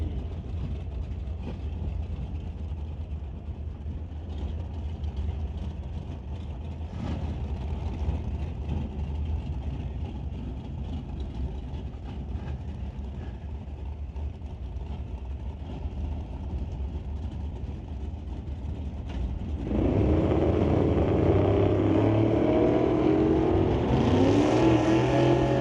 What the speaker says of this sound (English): Daryl Tippy brings up the Horizon Paint and Auto Body 1962 Chevy 2. Racing Cassie Tippy in the 65 Nova Wagon.